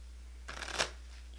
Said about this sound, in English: We take the discard pile and the encounter deck and we shuffle them together.